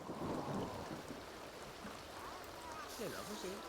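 Steady rain and rumbling thunder from The Sims 2 wash over the whole stretch as a dense, continuous hiss with low rolling rumbles, fairly faint overall.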